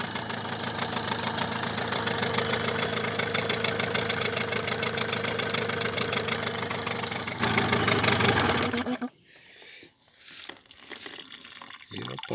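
A Suzuki 9.9 outboard motor runs with a steady, continuous mid-pitched drone and a watery hiss for about nine seconds, then goes quiet, leaving faint, irregular noises.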